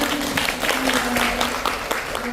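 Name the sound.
congregation applause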